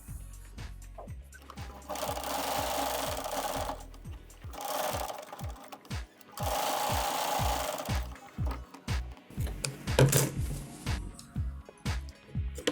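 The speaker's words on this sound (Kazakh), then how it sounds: "Сызған сызғымыздың үстінен тігіп шығамыз." A sewing machine stitches along a drawn line on fabric pieces for a cradle strap. It runs in several bursts of rapid, rattling mechanical chatter with short pauses and the clicks of the needle between them, all close up.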